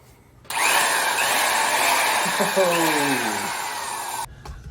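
An old, large power drill starts abruptly and runs loudly for several seconds with a harsh motor whine, its pitch dipping under load before it cuts off.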